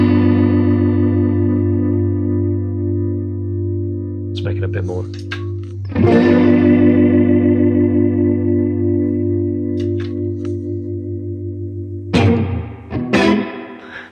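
Electric guitar played through a Line 6 Helix on a Texas blues preset, a sustained chord wavering with a chorus-like modulation whose speed shifts, re-strummed twice, while someone briefly speaks over it.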